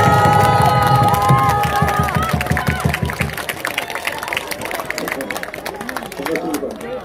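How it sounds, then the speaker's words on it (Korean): Crowd at a street protest rally outside the National Election Commission cheers and claps, loud and dense at first with voices shouting over it, then thinning into scattered applause and chatter. "박수 한번 드리겠습니다"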